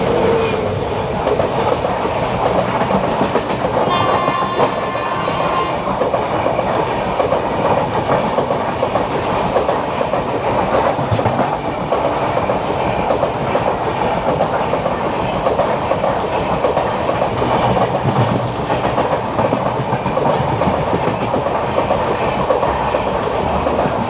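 A Konkan Railway train on the Panvel to Ratnagiri line in the monsoon season rumbles loudly and continuously, with steady clickety-clack of wheels on rails and a brief high squeal near the start, heard from inside the carriage.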